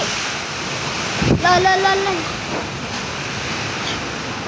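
Strong typhoon wind roars steadily against the microphone in a broad, continuous rush, while a voice briefly speaks over it.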